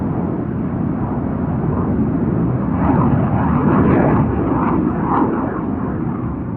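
F-16 fighter jets flying as an Air Force escort over Washington, D.C. make a loud, steady, rumbling jet roar that swells slightly in the middle and holds for several seconds, with no talk.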